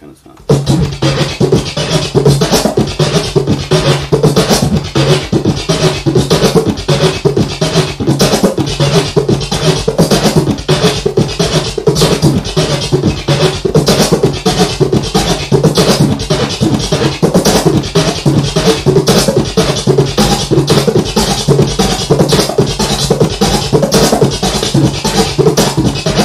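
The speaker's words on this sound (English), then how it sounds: "this kick sounds kind of Brazilian kind of sound" A kick-and-snare drum combo with a Brazilian-flavoured kick plays a fast, dense, driving pattern of repeated hits. It sounds loud and close and runs without a break for the whole stretch.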